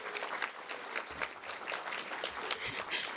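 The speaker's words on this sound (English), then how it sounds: "so give yourselves a round of applause" An audience at a Lunar New Year celebration in New Rochelle applauds with a dense, steady patter of clapping that stays fairly faint and even and continues alone for a few seconds.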